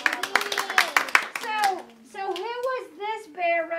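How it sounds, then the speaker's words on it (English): Children clap a few quick, uneven claps after a storytime reading, close and light, then young voices chatter and an adult speaks. "can we clap for the bears?"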